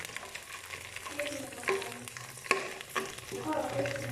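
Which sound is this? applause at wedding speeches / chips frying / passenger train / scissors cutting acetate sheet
chips frying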